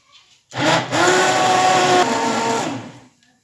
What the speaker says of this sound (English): This can go into a food processor if you want, or just blitz it up like this.